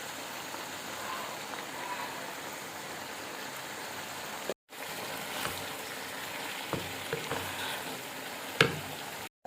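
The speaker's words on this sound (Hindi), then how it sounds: "इसको हम थोड़ा सा फ्राई कर लेते हैं" Rice pulao ingredients frying in a pan, a steady close crackling sizzle with occasional stirring clicks and a brief cut in the middle.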